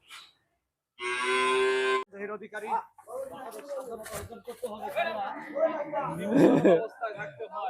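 A very large cow being fattened for Qurbani lets out one loud, sustained moo up close, followed by people talking and chuckling nearby.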